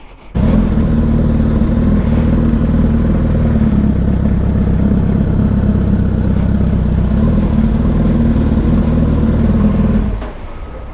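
A Suzuki Hayabusa motorcycle engine sounds loud and steady at close range, holding a strong low rumble for about ten seconds before easing off as it moves away.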